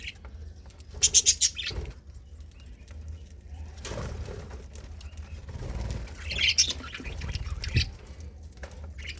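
Pet pigeons or doves in a home loft with eggs and chicks, giving bursts of chirps and calls with some wing flapping, close and moderately loud, in two clusters with quieter stretches between.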